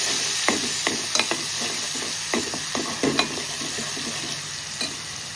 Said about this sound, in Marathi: याच्यामध्ये जे आपण वाटण तयार करून घेतलेले आहे अद्रक, लसूण, मिरची, कोथिंबीर ठेचून ते टाकूया। 1 मिनिट आपण शिजवून घेऊया व्यवस्थित।